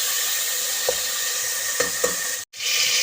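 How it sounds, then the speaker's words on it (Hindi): Tomatoes and masala sizzle steadily in hot oil for matar pulao, with a few soft spoon scrapes of stirring and one brief dropout near the end. "अच्छे से मिक्स करना है टमाटर डाल के।"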